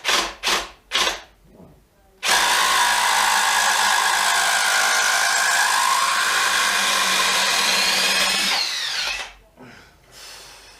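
A RIDGID hydraulic impact driver runs in reverse to back screws out, a loud, steady whirring drone that holds for about six seconds. Brief knocks come before it and a trailing wind-down follows, with no talking.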